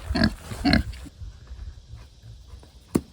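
Pigs grunt in two close, low bursts near the start, followed by quieter shuffling and rustling, then a sharp brief thump near the end.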